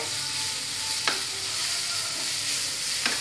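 Beans and carrots with salt stir-frying over high flame, a steady close hiss of sizzling with a couple of sharp utensil scrapes against the pan.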